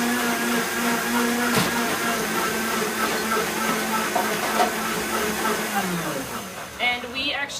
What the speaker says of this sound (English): And we're going to blend it.